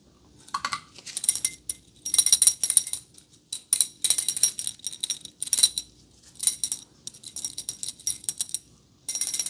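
A metal reflexology tool is handled close up in quiet ASMR style, giving bursts of bright clinking and jingling that come and go in short clusters with silent gaps between them.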